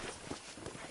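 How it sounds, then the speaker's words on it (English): Horse hooves clop in a quick, steady riding rhythm in the Red Dead Redemption video game, close and moderately loud with no talking. "let's see if you can still ride a horse."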